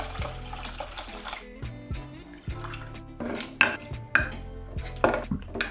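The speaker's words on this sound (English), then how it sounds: "Now we're going to separate the stock from the meat and remove all those onions." Mutton stock is strained away from the meat in a kitchen pot, with liquid pouring and splashing alongside scattered clinks and knocks of utensils against metal cookware, moderately close with no talking.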